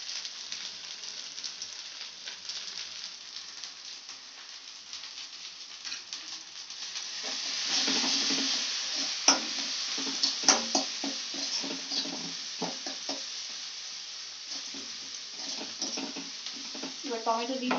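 Turmeric and chili powder spices frying and being stirred in a pan for a giant prawn malai curry, a steady close sizzle that swells midway with scraping stir strokes and small pops.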